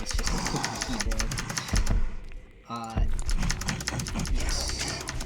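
Loud clicky computer keyboard being typed on during a speedrun session, rapid uneven key clatter close by with a brief pause midway, a voice talking over it.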